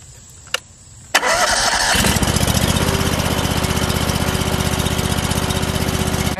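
A small machine's engine is started: a brief click and a short crank, then it catches and settles into a loud, steady, even idle that runs on close by to the end.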